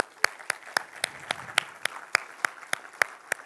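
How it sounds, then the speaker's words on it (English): Sparse applause rises from a conference audience at a Flutter developer event, a dozen evenly spaced sharp claps ringing out in a quiet hall, fairly faint and without talking. "I'd like to get a round of applause, please."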